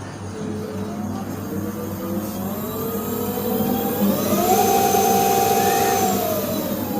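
An upgraded electric hub motor on a 2007 Emoto Renza scooter whirs steadily under throttle, its pitch rising and holding at a higher tone as it speeds up, close and continuous with no voices.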